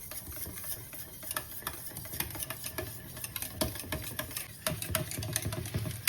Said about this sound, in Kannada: ಇವಾಗ ಚೆನ್ನಾಗಿ ಇದನ್ನ ಬೀಟ್ ಮಾಡ್ಕೊತೀನಿ.